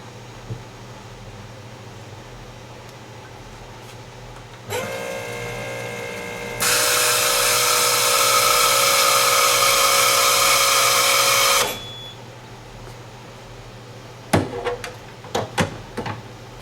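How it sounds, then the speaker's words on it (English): A fuel injector test machine for 2000cc injectors starts with a buzzing hum, then a loud hissing spray into a bucket runs steadily for about five seconds before cutting off, followed by a few clicks. "now I'll rerun the test with this spraying into the bucket."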